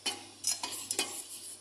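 A spoon scrapes and stirs through dates and walnuts cooking in a pot, giving a few quiet, uneven scraping strokes with a faint sizzle underneath.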